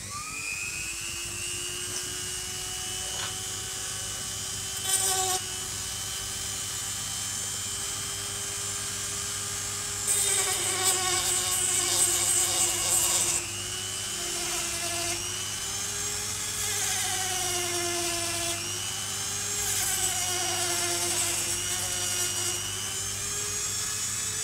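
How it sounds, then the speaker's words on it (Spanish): A Dremel rotary tool cuts through the plastic of a PS4 Fat console case with a steady, high-pitched whine. The pitch wavers as the bit bites into the material, and bursts of harsher grinding come and go throughout. "he utilizado una Dremel, un mini taladro."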